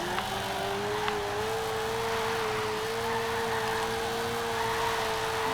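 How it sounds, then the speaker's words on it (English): A BMW M3 E30 engine in the video game Forza Horizon 2 holds high revs, bouncing off the rev limiter with a steady buzzing drone, loud and continuous throughout with no breaks. "it actually sounds really good when it's bouncing off the limiter"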